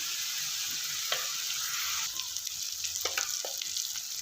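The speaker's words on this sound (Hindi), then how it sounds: "अच्छे से जो है मेथी को भून लेंगे, मसाले को तमाम को अच्छे से इसको फ्राई कर लेंगे।" Spice masala with fenugreek frying in oil for a village-style fish curry: an even hiss of sizzling with a few light scraping strokes of a spatula late on.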